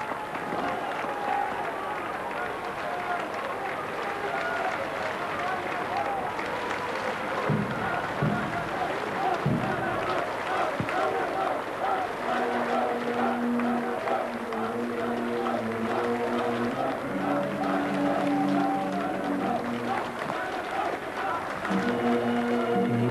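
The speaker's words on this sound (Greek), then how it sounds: "Να ακούσουμε ίσως, Ελένη, τώρα στην έξοδο το χειροκρότημα." Applause at the exit of a Greek state funeral in 1996, sustained clapping from a large crowd lasting throughout, with a military band starting up and voices over it.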